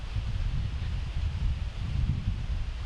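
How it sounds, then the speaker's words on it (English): Wind whips through trees on a disc golf course, a steady low rushing roar with buffeting, continuous and fairly loud throughout. "you can just hear the wind whipping through."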